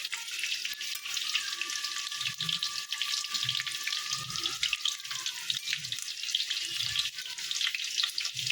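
Potatoes frying in oil give a steady, dense sizzle that runs throughout, with soft low bumps and a faint thin tone across the middle of the clip.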